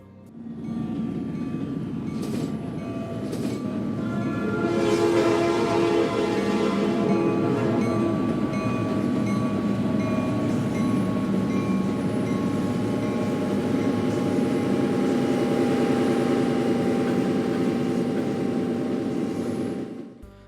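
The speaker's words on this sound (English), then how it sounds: "With a very 90s to early 2000s lash up, the heavy manifest chugs its way across the diamond." Heavy CSX Q543 manifest freight led by EMD SD60 and SD70 locomotives rumbling loudly across a rail diamond, with a steady roar of engines and wheels, a brief horn-like tone early, and rolling cars continuing until it fades.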